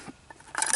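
A camping cooking pot being handled, a few light metallic clinks and taps spread over under a second, ending in a brighter rattling clatter, close and fairly quiet, with no talking.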